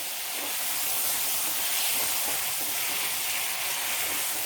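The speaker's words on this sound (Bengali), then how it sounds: "মশলাটা খুব ভালো করে ভাজা হয়ে গেছে, মশলার তেলটা আলাদা আলাদা হয়ে এসছে।" A steady, loud hiss of Bengali spice paste frying in oil in a pan, continuous and close throughout while being stirred for radhaballavi kochuri filling with biulir dal.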